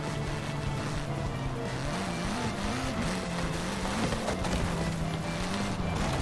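A car in the racing game Forza Horizon 5 drives along a motorway, its engine a continuous, moderately loud drone whose pitch rises and falls slightly with gear and throttle changes, heard alone without talk.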